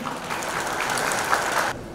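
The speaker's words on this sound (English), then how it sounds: "join me in giving a huge round of applause as we celebrate this momentous occasion" Audience applause fills a car launch event for the new Hyundai Alcazar, a steady dense wash of clapping from a sizable crowd that cuts off abruptly near the end.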